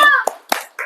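A primary-school class does the rhythmic 'tepuk semangat' spirit clap, with two quick clap bursts set between children's shouted voices.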